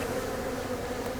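Honey bees buzz steadily throughout while a beehive is being split, a dense, continuous hum of many insects close by with no talking.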